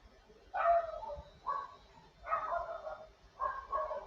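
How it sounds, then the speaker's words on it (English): Someone else's dog barking in the background, four muffled, fairly faint barks or woofs spaced irregularly across a few seconds, with no talking over them. "Oh, that's not Samson in the background. That's someone else's dog."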